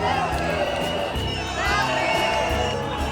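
Dense crowd noise fills a Moroccan street at night during a victory parade, with continuous cheering, shouts and whoops from many people close by, steady and loud throughout.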